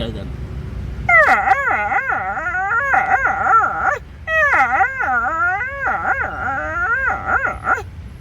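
A voice imitates a hungry, unfed dog, letting out long wavering howls and whimpers, several in a row with brief pauses.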